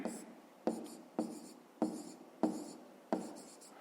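Pen or pencil writing a math answer on paper, with five evenly spaced scratchy strokes, each starting sharply and fading, close but quiet.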